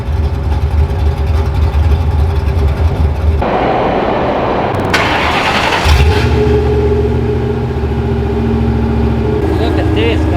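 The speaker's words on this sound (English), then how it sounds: "Hope you guys can hear that cam." A 1998 Ford Mustang GT with a cammed 4.6 V8 and straight pipes idles with a choppy lope, then revs sharply in loud bursts before settling back, with voices heard over it.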